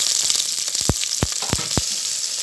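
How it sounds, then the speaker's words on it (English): Steady hissing sizzle of okra frying in hot oil, with a few soft knocks of a utensil stirring the pan. "Frying it in the oil so that it becomes tender and threadless."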